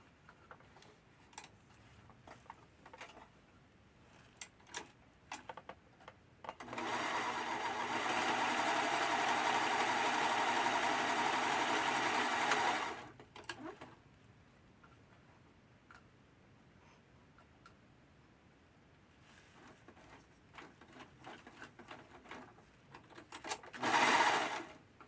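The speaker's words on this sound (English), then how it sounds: "I'm going to put a serger here and in the sleeves so that we have a very" A serger sewing machine finishes the seams of a collared shirt. Soft handling clicks lead into a loud, fast, even whirring stitch run lasting about six seconds, then quieter ticks and a short final burst of stitching.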